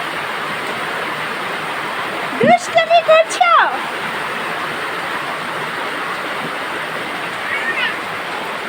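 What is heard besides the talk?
heavy rain pouring, flooding the kitchen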